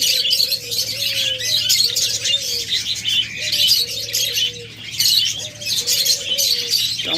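A rainbow budgerigar pair at a bird sale gives repeated short, tonal chirps against a dense, busy chatter of many small birds, loud and close with a low steady hum underneath.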